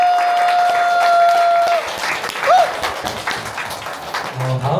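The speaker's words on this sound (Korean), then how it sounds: "두 분께 큰 박수 부탁드립니다." An audience at a literary-festival evening applauds with dense, steady clapping that fills about five seconds, fading slightly toward the end, with a faint tone and murmur underneath.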